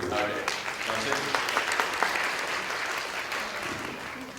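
Audience applause at a 2017 IoT commerce summit keynote in Taipei, a dense, steady wash of clapping across a hall that holds evenly throughout, with some talk mixed in underneath.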